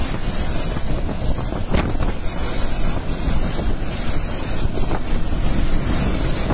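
Strong, roaring wind from Typhoon Odette (Rai) in the Philippines buffets constantly, with heavy gusts blasting against the microphone and a dense, rushing noise throughout.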